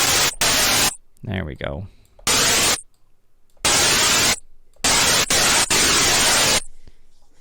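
A white noise riser with distortion, made in Ableton, plays as repeated loud bursts of harsh hiss that cut in and out, with a brief spoken comment between bursts.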